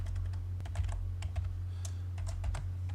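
Someone types an AutoCAD command on a computer keyboard, producing a quick run of close, light key clicks over a low steady hum.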